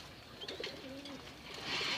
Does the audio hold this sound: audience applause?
no